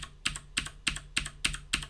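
Keys tapped on a computer keyboard while entering editing shortcuts, six evenly spaced soft clicks in a steady rhythm, close but fairly quiet, with no talk.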